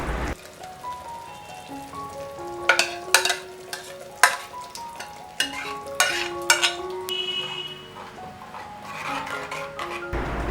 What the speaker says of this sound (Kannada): ಒಗ್ಗರಣೆಗೆ ಚೆನ್ನಾಗಿ ಎಣ್ಣೆ ಬಿಟ್ಟ ಮೇಲೆ ಇದಕ್ಕೆ ನಾವು ಕುದಿಸಿಟ್ಟಿರುವ ಬೇಳೆಯನ್ನು ಹಾಕ್ಕೊಳ್ಳೋಣ.